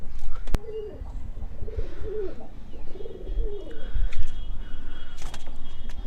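A pair of pigeons settling together in a coop coo in repeated soft, low bursts, close by, with a steady background hum and a sharp knock near the start.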